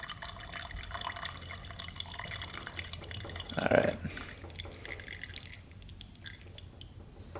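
Gasoline drains out of a small valve on a rare 1970s Pacesetter three-wheeler, a short splashing gush of liquid rising out of a quiet background, with one brief word spoken nearby.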